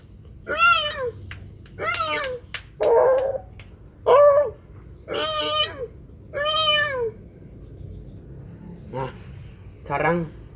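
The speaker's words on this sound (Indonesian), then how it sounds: "ini lagi suara kucing" A cat meows repeatedly and loudly, about eight drawn-out, wavering calls spaced a second or so apart, close to the microphone over a faint background.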